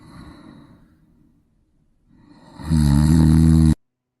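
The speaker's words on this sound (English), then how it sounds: "is our snore of the week" Loud snoring played as a short clip, a quiet breathy stretch and pause building into one heavy, rumbling snore that cuts off abruptly.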